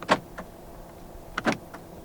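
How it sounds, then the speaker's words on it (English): Central door locks on a 2023 Proton X50 1.5T actuating inside the cabin, two quick mechanical clunks about a second and a half apart, each with a short whirring follow-through, close and fairly quiet. "Electronic central locking"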